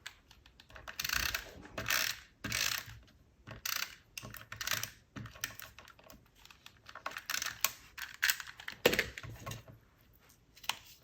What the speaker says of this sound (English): I'm just going to use my tape runner